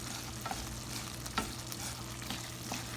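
Meat for a Cincinnati-style chili con carne fries in a pan while being broken apart. A dense, even sizzle runs throughout, with a few sharp scraping clicks from the utensil, close up and with no voices.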